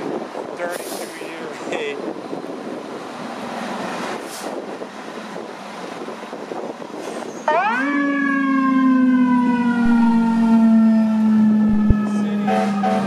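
A brand-new FDNY fire engine sets off its Rumbler siren and air horn. After a windy, noisy opening, a loud wailing tone with a deep low-frequency rumble starts suddenly and sweeps slowly downward, staying close and dominant.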